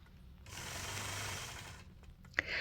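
A sewing machine quilting with So Fine thread runs in a fast, steady mechanical whir for about a second and a half, then stops, and a couple of sharp clicks follow.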